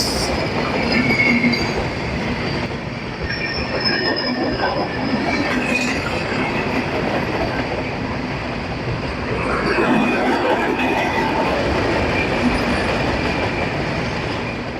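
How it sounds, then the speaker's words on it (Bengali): A train bound for Panchagarh pulls into Hili railway station near the border, its loud rumbling wheels and carriages clattering and squealing continuously as it draws close, with faint voices in the background. "পঞ্চগড় যাবে সেই ট্রেনটি আসছে। দেখুন ওই যে দূরে দেখা যাচ্ছে সেই ট্রেনটি"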